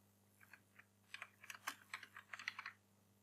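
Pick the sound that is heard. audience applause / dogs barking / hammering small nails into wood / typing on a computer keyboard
typing on a computer keyboard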